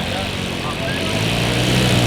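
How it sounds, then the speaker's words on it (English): Engines on an RC Breitling Stearman model biplane run steadily with a loud, continuous propeller drone that builds slightly, while people talk over it. "Brand new engines there, 170 watt."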